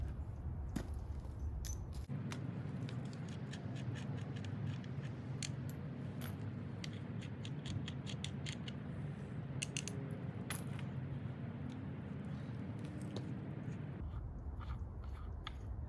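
Metal bolt and large washer being taken off a wooden concrete form for a parking lot light pole base, heard as a string of light metallic clinks and rattles over steady low background rumble.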